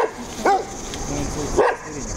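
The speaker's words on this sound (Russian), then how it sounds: "а собачий лай" A dog barks from behind a high fence at a property in Khosta, Sochi, two sharp yelping barks about a second apart, moderately near over a steady outdoor background.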